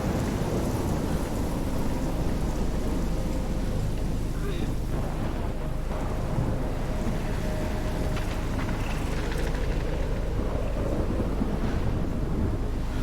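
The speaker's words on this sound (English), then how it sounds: "Oh yeah, it's big storm." A thunderstorm in the video game Life Is Strange brings steady heavy rain and deep rolling thunder. Wind-like noise runs without a break across the whole stretch.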